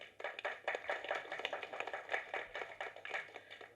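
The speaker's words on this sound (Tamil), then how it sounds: "தட்டுங்க சார்." Audience applause at a public speech event, a brief burst of many hands clapping together steadily, moderately loud, with no talking over it.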